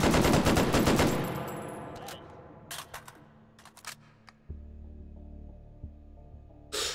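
In the VR game Hot Dogs, Horseshoes & Hand Grenades, a weapon fires rapidly in fast fire mode: a dense, loud burst of shots lasting about a second, then a ringing decay followed by scattered mechanical clicks and clacks.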